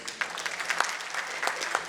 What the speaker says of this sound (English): I think sir deserves a louder round of applause